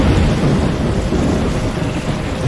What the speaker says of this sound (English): A tropical storm?